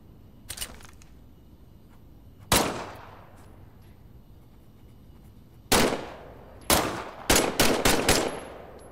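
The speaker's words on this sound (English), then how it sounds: "why don't you test fire your weapon?" Weapon test firing in Medal of Honor VR: a single loud shot, a pause, then more sharp reports and a quick burst of several rounds, each with a ringing decay, against a quiet background.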